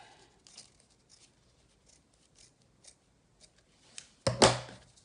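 Scissors trimming a ribbon end at a slant, a few faint small snips followed by one louder, sharper close cut near the end, otherwise quiet.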